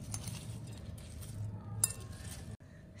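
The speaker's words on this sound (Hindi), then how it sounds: "और अब हम इन सब चीजों को अच्छे से मिक्स कर लेंगे।" A spoon clinks and scrapes against a bowl as aloo chaat is mixed: boiled potatoes with green chili and salt. The faint, close clatter stays fairly quiet and ends abruptly.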